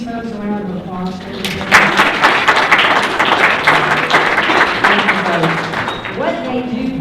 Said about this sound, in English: Would you give these folks a round of applause?